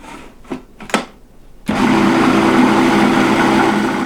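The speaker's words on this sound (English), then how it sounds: "So now let's add spices: marigold, coriander, blue fenugreek, and of course chili pepper, and continue grinding." A blender grinds walnut sauce with marigold, coriander, blue fenugreek and chili pepper. A few short knocks come first, then the motor kicks in and runs loud and steady to the end.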